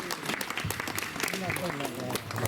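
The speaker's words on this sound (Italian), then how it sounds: "Un applauso a Maria." An audience at an outdoor poetry contest claps steadily throughout, a dense patter of many hands with a voice faintly audible underneath.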